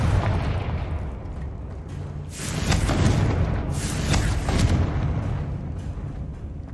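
Confringo spell explosions in Hogwarts Legacy: two heavy booming blasts in quick succession, each with a bright crackling burst and rumbling tail, over a low, constant background rumble.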